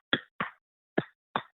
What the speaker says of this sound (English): It just sounded like a bunch of clapping. Yeah, that was me like slapping the side of his head.